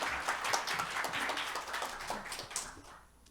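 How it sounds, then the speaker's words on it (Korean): Applause from a conference audience welcoming a speaker at a cloud computing summit talk on network security, brisk clapping with distinct claps audible, sustained and then thinning out near the end. "큰 박수 부탁드립니다."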